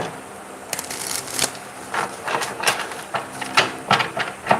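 Playing cards are shuffled close by in a series of quick riffling bursts, each a crisp fluttering rattle, repeating in an uneven rhythm.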